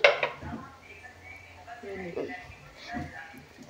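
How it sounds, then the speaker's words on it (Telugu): Pasta being stirred in a home kitchen pan with vinegar and chilli sauce nearby, giving soft scraping and clinking of a utensil against metal, faint and intermittent, with background voices murmuring. "ఇప్పుడు మిక్స్ చేస్తుంది"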